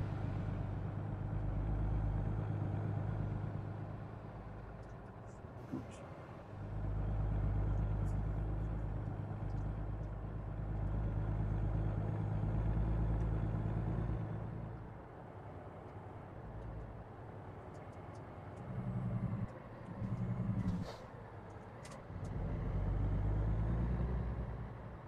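A heavy truck engine in American Truck Simulator labors uphill on Oregon roads, a deep steady drone rising and falling with gear changes and load, close and loud with no talk.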